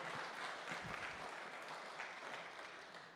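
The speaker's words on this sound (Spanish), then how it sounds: "Un fortísimo aplauso" A congregation applauds at a Sunday church service, a steady, faint wash of many hands clapping together, heard from a distance without speech.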